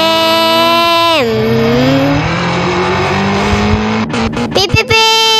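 A cartoon motorbike engine gives a loud, buzzy synthetic drone. It drops in pitch, holds low and steady, then breaks into a few sharp choppy bursts before resuming.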